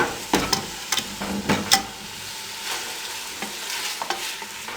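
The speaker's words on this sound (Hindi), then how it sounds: "मसाले में मूंगरों को भून लेंगे" Potato moong dal fritters being stirred and fried in masala, with a spoon scraping through the pan in several quick strokes over a soft, steady sizzle.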